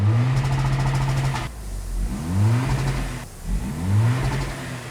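A Toyota Land Cruiser LC250 with a Ganador quad exhaust revs three times in quick succession, each rev a rising roar that drops back to a rumbling idle, loud and close with no talking.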